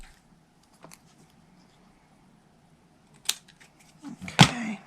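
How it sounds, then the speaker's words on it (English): Scissors snip through paper and cardstock while a heart banner gift box is being trimmed, a few sharp isolated cuts, close by against a quiet room, the last ones louder and more crisp. "I'm just going to snip it off at the edge"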